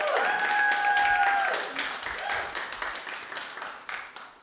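An audience at a stand-up comedy show claps in a burst that gradually thins out, starting fairly full and tapering into scattered individual claps toward the end.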